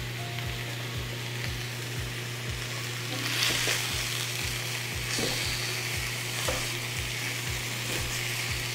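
Sausage meat fries in a cast iron skillet with a steady, close sizzle and crackle, with a few louder stirring scrapes and a low rhythmic ticking running underneath.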